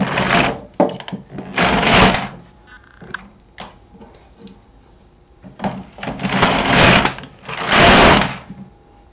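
An LK 150 knitting machine carriage is pushed back and forth across the needle bed to knit rows for winter slippers, giving loud rasping sweeps at a steady rhythm separated by short clicks and pauses, with no talking.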